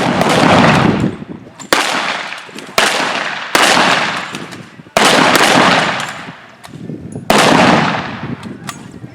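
Loud bursts of automatic fire from a World War II–era submachine gun, successor to the PPSh, at Fort Clinch, Florida, come in several sharp sustained strings of shots with brief gaps and echo trailing after each burst.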